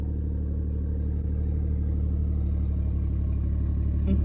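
BMW 440 with a B58 engine idling right after a big turbo install, a steady close low-pitched rumble with an even, slightly clattery texture and no talk.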